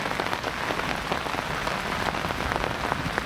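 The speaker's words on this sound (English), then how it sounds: "it's been raining for the last 30 minutes or so" Heavy rain pounds steadily on a cot tent at a stormy campsite, a dense, even drumming of drops close overhead with no voices.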